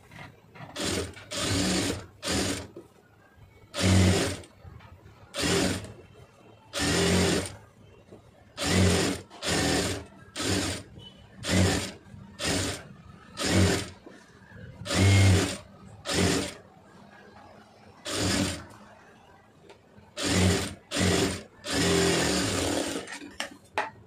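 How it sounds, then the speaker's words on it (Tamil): Sewing machine stitching a net blouse, running in repeated short loud bursts of rapid mechanical whirring separated by brief pauses, close up with no talk. "இப்போ இதில் வந்து ரெண்டாவது தையல் போட்டுடலாம்"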